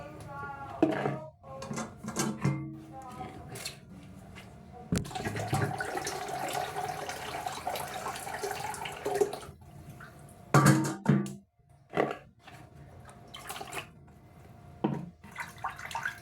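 Water runs steadily from a tap into a tub as hot water is mixed into cold for a bath, with splashing and handling sounds and intermittent voices nearby.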